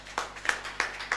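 Brief scattered clapping at a parenting seminar Q&A, four distinct claps spaced evenly, fairly faint and close, with no voices over them.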